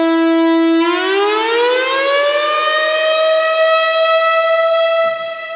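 A synthesizer voice in a Ukrainian Eurovision song imitating a siren: a loud, steady held tone that rises smoothly in pitch after about a second and then sustains, rich in overtones, fading slightly at the end.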